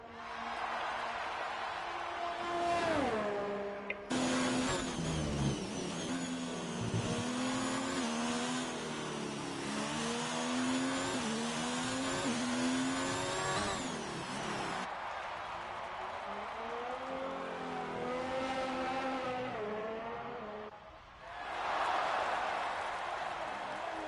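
A Formula 2 race car on a hot lap in a racing video game, its engine whining and rising and falling through gear changes over a long stretch, with a commentator speaking over it.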